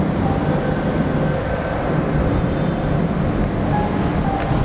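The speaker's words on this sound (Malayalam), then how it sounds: "ട്രെയിൻ മാത്രം ഇങ്ങനെ പോകുന്നുണ്ട്" A metro train rolls past at a Bangalore station, a loud, continuous low rumble and hiss with steady rail noise from start to finish and no voices.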